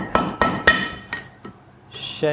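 Ball peen hammer striking hot iron during blacksmith forging of an iron heart: four sharp ringing metallic blows in an uneven rhythm, then a fainter tap and a brief clink, close and loud with no talk.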